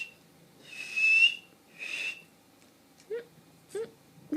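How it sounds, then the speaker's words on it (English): Two short, breathy whistles from a mouth, one after the other, followed by quieter breathy sounds and brief vocal noises. "I can whistle with my mouth now."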